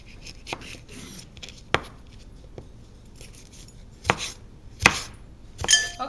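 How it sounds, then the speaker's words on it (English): Jalapeno peppers diced with a knife on a cutting board, giving scattered sharp chops and taps that are sparse and uneven, some louder near the end, over a quiet background with no talking. "Okay, now that the jalapenos are all diced, you can go ahead and dump everything in the bowl."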